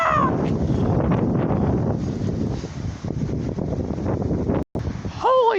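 Strong, cold windstorm gusts blast across the microphone in a constant loud rumbling roar, with a person exclaiming over it at times.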